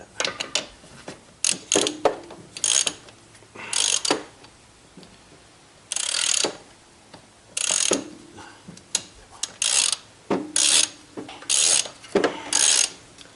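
Socket ratchet working a bolt on the rear brake caliper of a Honda CBR1000F motorcycle, loud close clicking bursts in repeated strokes separated by short pauses, with no speech.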